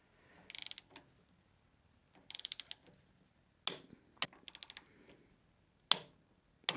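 Torque wrench clicking while tightening the upper fork pinch bolts on a motorcycle, set to 27.5 in a workshop: several bursts of rapid ratcheting followed by sharp single clicks, close and clear, with no talking.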